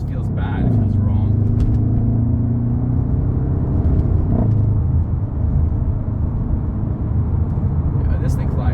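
A BMW F10 550i sedan cruises and accelerates, its engine holding a steady low rumble with a rising then settling drone, and road noise running throughout as someone talks over it.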